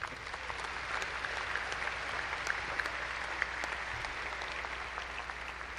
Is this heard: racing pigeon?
no